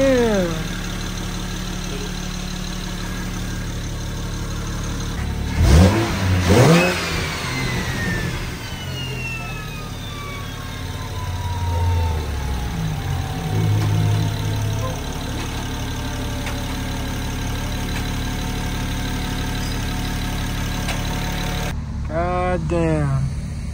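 A BMW N54 engine converted to a single turbo revs and runs on its first drive into a parking lot, with a steady mid-pitched drone, a louder burst near the middle and a falling whine, while people talk over it.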